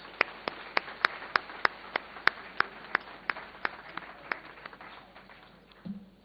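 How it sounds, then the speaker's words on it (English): Sparse, slightly irregular applause from a small conference audience at a leadership event, about twenty distinct claps spaced through several seconds, fading toward the end with a brief low murmur. "Let's give them a round of applause."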